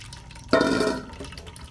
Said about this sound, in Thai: ใช้มือบีบๆนะคะ บีบเนื้อสับปะรดให้น้ำเข้าออก